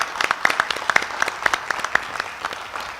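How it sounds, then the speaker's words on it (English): Scattered, fairly light clapping from a small group at a county council meeting, with a few sharper claps standing out over a soft background. "y'all can clap because he earned it"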